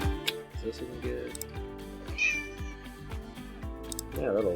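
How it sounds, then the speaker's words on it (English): A cat meows over busy background music with a steady beat, the meows short and fairly clear above the instruments. "maybe I'll do a cat meow and find that"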